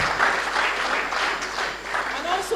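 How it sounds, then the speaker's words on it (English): A conference audience applauds after a keynote talk and panel discussion, a steady, dense clapping close by that goes on throughout, with voices faintly heard. "can we give a big round of applause to our keynote speaker and to all our panelists?"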